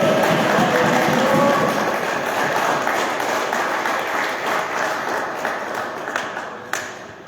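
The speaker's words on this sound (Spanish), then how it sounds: "Denle un aplauso a Cristo" A church congregation claps and applauds steadily, loud and dense at first, then gradually thinning and fading toward the end.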